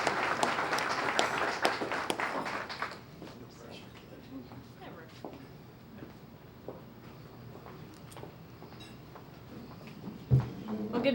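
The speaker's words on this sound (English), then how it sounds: "Let's have a nice round of applause." Applause from a school audience honoring a student of the month, loud and dense for the first three seconds, then fading to scattered claps and room murmur with a brief thump near the end.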